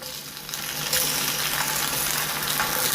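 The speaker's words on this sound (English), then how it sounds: "There's the sizzle." Sausages sizzle and crackle in a hot oiled pan, a loud, continuous hiss that swells slightly after the first second, close up.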